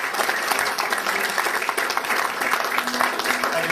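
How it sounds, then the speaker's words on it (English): Applause from a live show audience for performer Lonnie Lee, a dense, steady round of clapping heard up close throughout, with a voice speaking faintly beneath it. "let's have a round of applause for the man"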